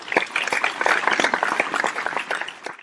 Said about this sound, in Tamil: பிள்ளைக்கு ஒரு கைதட்டு கொடுப்போம்.